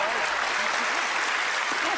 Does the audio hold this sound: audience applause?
yes